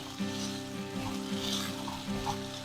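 Rice grains sautéing in ghee over a low gas flame, a steady close sizzle with soft scraping stirs, continuous and fairly quiet, no talk.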